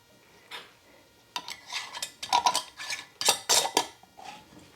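Glass canning jar with a metal lid and ring being screwed down to finger tight by hand, heard as several short clinking, scraping clatters in close bursts with brief pauses between.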